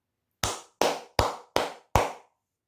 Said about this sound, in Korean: 엄청 잘 된 일이기 때문에 다시 한번 박수 한번 치고 가도록 하겠습니다